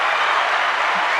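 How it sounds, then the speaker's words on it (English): A small group claps steadily in a short burst of applause, close and fairly loud, with no talking over it. "Everybody gets a clap."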